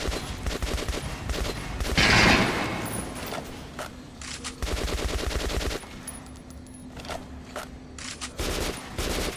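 Automatic gunfire in the video game Metro Last Light, rapid bursts of shots rattling in clusters with short pauses between, plus one louder blast partway through, close and loud with no talk.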